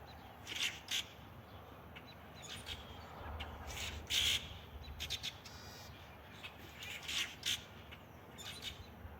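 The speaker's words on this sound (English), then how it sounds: "Lots of birds." Crows caw outdoors among other birds, scattered calls of moderate distance rising over a constant hiss of background noise, several bursts spaced irregularly with no speech.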